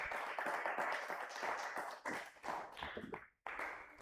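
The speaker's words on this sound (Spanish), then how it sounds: "Un fuerte aplauso al Señor" A church congregation claps in praise, the hands beating out a fairly rhythmic pattern. It sounds faint and somewhat distant, with a brief dropout near the end.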